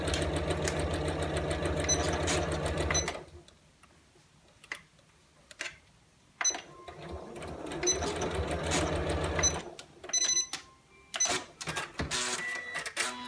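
A sewing machine runs a rapid, loud, even stitch while seaming a linen shopping tote bag, then stops, gives a few short clicks and bursts, and starts running again in shorter runs.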